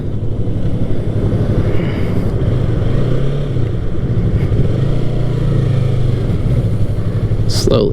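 Yamaha MT-03 motorcycle riding in traffic and splitting lanes, a steady loud engine drone with rising and falling pitch under heavy wind rush, with a brief sharp high sound near the end.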